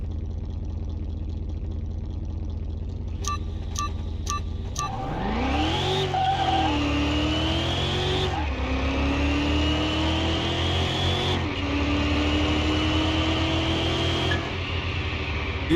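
A supercharged LS engine in a C1 Corvette within Car Mechanic Simulator 21, idling steadily and then revving hard through a sequence of rising pulls, loud and close, with tire squeal and no talk.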